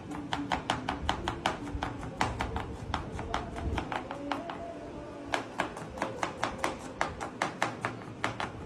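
A knife chops vegetables for a salad in quick, regular taps on a cutting board, close and clear, pausing briefly mid-way before resuming in steady rhythm.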